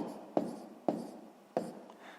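A pen or pencil writes numbers by hand during a sixth-grade math exercise, giving faint, close scratching with three sharp taps as strokes begin, steady and quiet with no talking.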